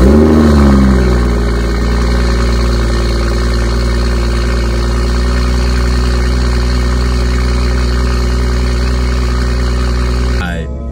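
A BMW M240i fitted with an aftermarket downpipe idles loud and close for about ten seconds, a steady deep exhaust drone with a brief rise in revs near the start, cutting off abruptly at the end.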